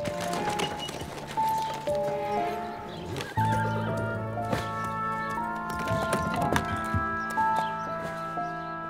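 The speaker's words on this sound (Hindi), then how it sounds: "घोड़े को खोलिए सबाहद्दीन।" A horse from a palace carriage neighs several times while its hooves clip-clop in uneven steps nearby, clear and fairly loud.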